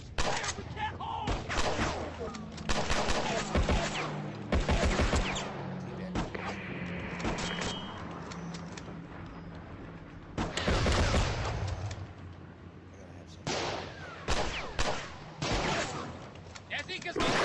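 Heavy gunfire and explosions fill a battle in the video game Mud and Blood 2, with rapid volleys, booming blasts and shouting voices mixed among the shots over a steady background rumble.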